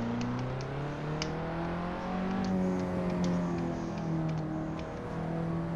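A KTM X-Bow race car engine in the game Assetto Corsa, racing on the Nürburgring, drones steadily and close, its pitch rising and falling as it shifts gears, with no talking.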